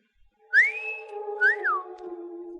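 In an old-time radio drama, a man gives a girl a close, clear two-part wolf whistle: a rising sweep that holds, then a quick rise-and-fall, over a faint low hum.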